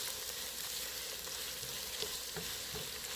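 Onions frying in a pan for Ghanaian chicken angwamu, giving a steady soft sizzle throughout with faint occasional stirring taps, no talking.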